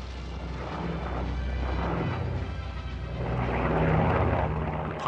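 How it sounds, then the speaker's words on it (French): Twin-engine Lioré et Olivier LeO 45 bomber with Gnome-Rhône engines flying, a steady droning propeller-engine hum that swells slightly toward the end, heard alone without voices. "La SNCASE a reçu commande de 1800 bombardiers Lioré et Olivier Léo 45, bimoteur Gnomerone, notre meilleur avion de bombardement de l'époque"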